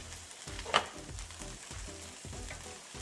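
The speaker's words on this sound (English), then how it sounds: "And I have my greens cooking." Greens frying in a pan, with a faint steady sizzle and soft rhythmic stirring scrapes.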